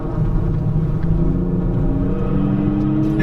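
A Kia Stinger GT2 AWD engine pulls steadily in fourth gear while climbing a hill, a loud, continuous low rumble with road and cabin drone throughout and no voices.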